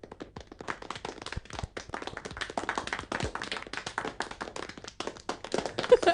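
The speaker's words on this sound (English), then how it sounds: "There was a clapping sound effect." Scattered hand clapping from a few podcast hosts welcoming a guest, irregular sharp claps close by with no talk.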